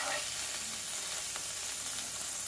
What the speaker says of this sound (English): I'm just allowing it to sizzle